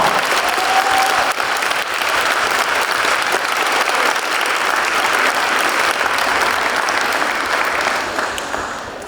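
Sustained applause from an audience at a Mother's Day school event, dense and loud throughout, tapering slightly at the end.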